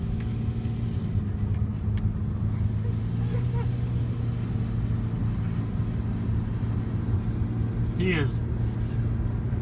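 A car drives along with a friend riding on the hood, its steady low engine rumble and road noise running throughout, with someone speaking briefly over it.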